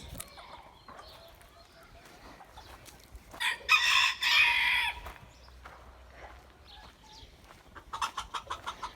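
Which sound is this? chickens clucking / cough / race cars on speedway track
chickens clucking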